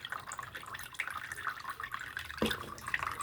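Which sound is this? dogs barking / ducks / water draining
water draining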